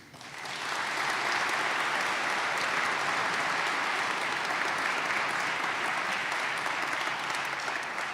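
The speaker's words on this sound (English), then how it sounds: "how about applause again for these students?" A concert audience at an all-conference band performance breaks into sustained applause for the student musicians. It swells quickly into a dense, even wash of clapping that holds steady for several seconds.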